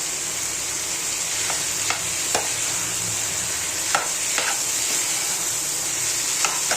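Paneer bhurji with tomato and onion cooks in a pan over a low gas flame, giving a steady close sizzle with occasional soft scrapes of a spoon stirring through it, and no voices.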